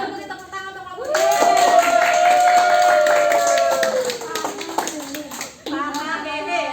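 Classroom of students clapping for a group during a tenth-grade biology lesson, a brief burst of hand claps mixed with children's voices and a long sung or called-out tone, then chatter.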